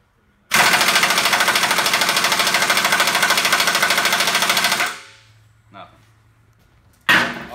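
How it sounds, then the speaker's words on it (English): A 3/4 inch impact wrench with a 7/8 Allen bit hammers on a truck kingpin in a loud, rapid, close burst lasting about four seconds, then stops, followed by quieter clanks and a short second burst. "So we got a 3/4 inch impact and a 7/8 Allen bit."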